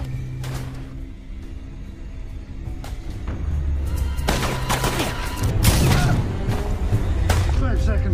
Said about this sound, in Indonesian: terjadilah baku tembak antara Dove dan kelompok Jacob